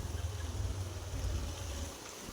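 Water flows steadily in a stream near a temple in Chikmagalur, a continuous rushing wash with a low rumble underneath and no talk.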